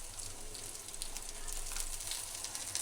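Garlic and ginger paste goes into browned onions frying in a pan, producing a soft, steady sizzle heard close but at low volume, with no speech over it.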